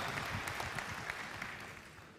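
Faint applause rises from an audience at a political conference speech, a soft steady patter of clapping that slowly thins out over a couple of seconds with no talk over it.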